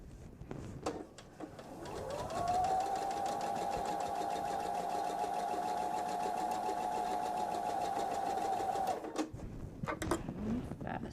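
Sewing machine stitching a seam under the presser foot, running as a steady, continuous mechanical whir for about seven seconds, with brief handling noises before it starts and after it stops.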